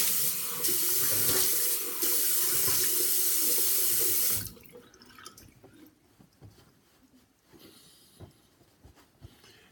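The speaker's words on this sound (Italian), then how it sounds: "sciacquiamo il strumento, sciacquiamo il viso" A tap runs strongly into a sink while a razor and face are rinsed, the steady close rush cutting off after about four seconds and giving way to scattered drips and faint handling noises.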